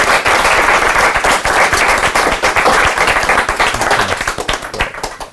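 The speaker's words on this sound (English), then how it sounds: "I think that deserves the loudest round of applause so far today." An audience at a live skills and esports roadshow event in Leeds breaks into sustained, dense applause and clapping that fills the room for several seconds before starting to thin out.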